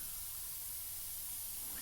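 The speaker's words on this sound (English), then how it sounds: "we may hold it back distance and get just a little bit more paint so you can see it spraying in this second coat" A high-pressure sprayer misting dye onto carpet, a fine steady hiss that holds evenly throughout without a break.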